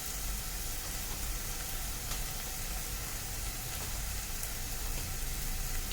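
Oats tipped into a hot pan of sautéed vegetables while making oats upma, giving a steady, close sizzle and crackle that runs unbroken without any talking.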